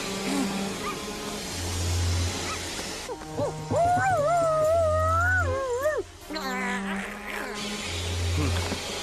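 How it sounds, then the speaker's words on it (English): A dog-like howl in a Code Lyoko cartoon episode, a wavering, rising and falling wail of a few seconds set against looping background music and effects. "It sounds like a dog."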